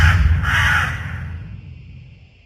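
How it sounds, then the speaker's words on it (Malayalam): Crows caw around a young man walking through a coffee plantation in a horror short film: a few harsh, close caws in the first second, then fading into a low, rumbling background with no speech. "ചുറ്റും കാക്കകൾ."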